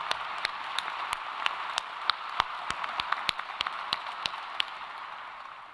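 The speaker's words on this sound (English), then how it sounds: "Please join me in recognizing our special guests, our marshals, and our gonfalon bearers with a round of applause." Scattered applause at a university convocation ceremony, a modest round of individual claps heard as distinct sharp hits over a soft background of more diffuse clapping, fairly quiet and distant in a large hall.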